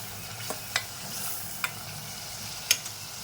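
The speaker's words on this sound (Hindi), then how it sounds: "इसी के साथ में ये बटाटे जो मैंने फ्राई करी हूँ ये डाल दूँगी, ये भी अच्छे से इसके साथ में भून जाए और पक जाए।" Fried potatoes and spices cooking slowly in a pan for matar nimona, giving a faint steady sizzle with a few sharp spoon-on-pan clicks and stirs scattered through the quiet.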